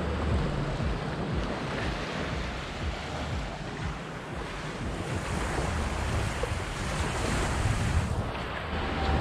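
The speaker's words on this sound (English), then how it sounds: "we headed over to Sanibel Beach" Ocean waves washing onto Sanibel Beach, a steady broad roar of surf with wind buffeting the microphone, continuous and fairly loud with no voices.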